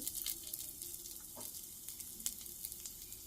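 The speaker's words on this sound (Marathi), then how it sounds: "याच्यामध्येच थोडंसं तेल टाकून घेऊन अद्रक आणि लसूण आपण फ्राय करून घेऊ." Ginger and garlic frying in oil over a low flame, a gentle hiss with light crackles and one brief clink, close and faint.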